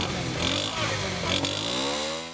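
Postie motorbike engine revving loudly up close, a rising and falling buzzy engine note with strong harmonics that climbs steadily in pitch over a couple of seconds.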